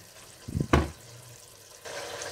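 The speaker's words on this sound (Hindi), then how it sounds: "अब मैं इसको भूनूंगी अच्छी तरह" Masala with ginger powder goes into a hot pan with two quick thuds, then a low frying hiss settles in and grows a little louder toward the end, with no voices.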